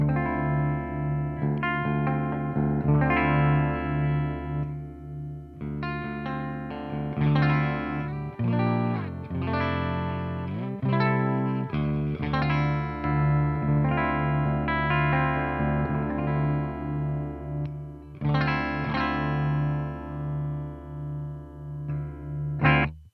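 An LTD electric guitar on its full humbucker played through a clean amp channel, mixing strummed chords and picked single notes with some modulation and reverb, steady and close.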